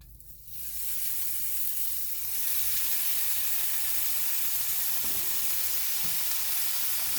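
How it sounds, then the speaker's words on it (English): A couple of bacon slices frying in a pan at breakfast, a bright, steady sizzle that swells after the first moments and keeps crackling, with a few soft clicks of the pan near the end. "I'm gonna make a couple slices of bacon because I am getting hungry this morning"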